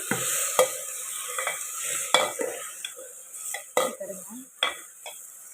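Tomatoes, brinjal and potato fry in a pan while a spoon stirs them, giving a steady sizzle broken by several sharp scrapes and clinks against the metal, close and alone.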